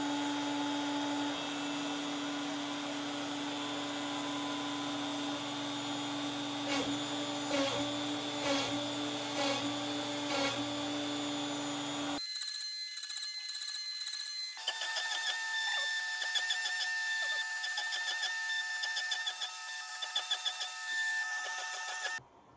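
A machine, likely a CNC router, making a first test cut in wood for a custom cribbage board, a steady whining hum with shifting tones and a sudden change in pitch midway, running continuously with no talk.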